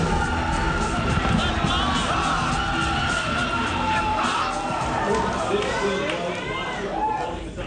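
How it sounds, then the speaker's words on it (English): A hometown crowd at a collegiate League of Legends match cheers and yells in a steady, loud wash of voices that fades slightly near the end, with a commentator's voice mixed in. "You can hear the hometown crowd behind them."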